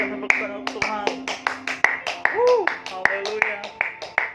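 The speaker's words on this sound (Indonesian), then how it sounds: "Kita berikan tepuk tangan untuk Tuhan." A church congregation claps in a steady rhythmic beat, with crisp, evenly spaced hand claps under a sustained sung or spoken voice during a worship service.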